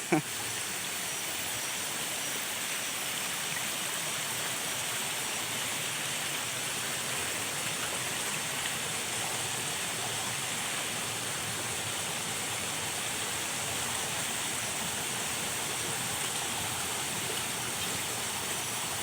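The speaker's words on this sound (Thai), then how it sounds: "น้ำตกชั้นที่สองก็จะเป็นน้ำตกน้อยๆเหมือนเดิมนะครับ เป็นแอ่ง" A small second-tier waterfall at Khao Sip Ha Chan in Chanthaburi, Thailand, rushes in a steady, dense, unbroken roar of falling water, close and loud, throughout.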